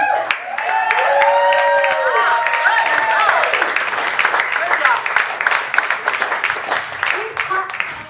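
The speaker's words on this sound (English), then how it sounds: "Keep clapping for Laura Poland." An audience at the end of a comedy show breaks into applause and clapping that grows more scattered toward the close, with loud voices and cheering over the opening seconds.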